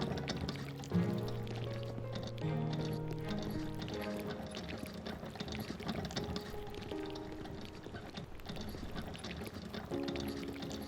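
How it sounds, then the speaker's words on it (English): Concrete pours from a wheelbarrow over foundations in the Builder Simulator video game, a steady sloshing rush lasting several seconds beneath looping background music. "Go to the wheelbarrow and pour concrete over the foundations."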